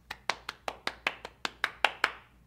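About eleven sharp handclaps ring out at a steady, even pace, close and crisp, from what sounds like a single pair of hands.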